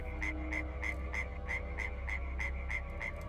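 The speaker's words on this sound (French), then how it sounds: "Dans la nuit, la grenouille s'est remise à coasser." A frog croaks in a steady series of about a dozen evenly spaced, clear croaks over a low constant hum, with no talking.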